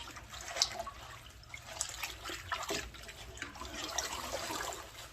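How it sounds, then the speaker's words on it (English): Collard greens are rubbed by hand and rinsed in a sink of water, giving soft, continuous splashing and trickling with small drips and swishes, close by but fairly quiet. "Kind of get the water all around the greens."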